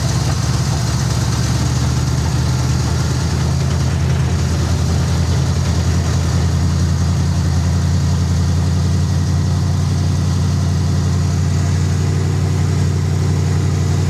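An International Scout engine fitted with a Harley carburetor idles steadily, a loud, continuous low rumble holding even for the whole stretch with no talk over it.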